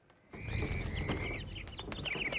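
Parrots and other birds call in a Hitman 3 level, bright chirps and warbling whistles starting abruptly and continuing over a low ambient hum, fairly close.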